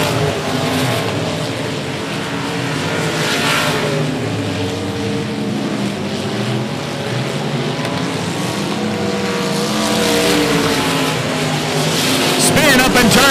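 Race cars roar around a quarter-mile oval at 105 Speedway, engines loud and continuous with revving swells as cars pass, over a race announcer's voice calling the action.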